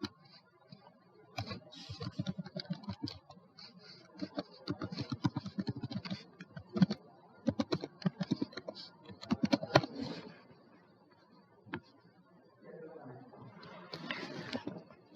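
Keys tapped on a computer keyboard while entering an email address into an online form, bursts of close, light clicking separated by short pauses, with a faint voice in the background now and then.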